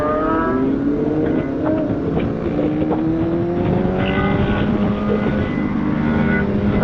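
A sport motorcycle engine on a downhill mountain road sounds loud and close, its tone sweeping and shifting continuously as it revs and passes.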